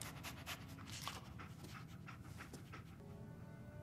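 Steady, fast panting from the companion dog Dogmeat in the video game Fallout 4, soft and close with a quick rhythmic breathy pulse, heard alone without talk.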